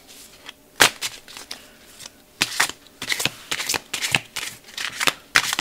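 Tarot cards being shuffled by hand, heard as a series of close, crisp riffling bursts in uneven rhythm with brief pauses between them, fairly loud and without speech.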